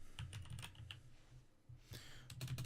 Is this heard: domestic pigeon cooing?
no